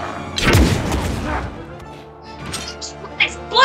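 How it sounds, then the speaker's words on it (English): An explosion in Mario + Rabbids: Sparks of Hope, one loud, heavy boom that rolls off into crackling debris, followed by quieter game effects. "Explosion!"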